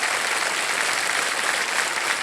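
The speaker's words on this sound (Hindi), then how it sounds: "एक बार जोरदार तालियां बज जाएं उनके लिए" Steady applause from a TV quiz show studio audience fills the whole stretch, dense and even, with no talking.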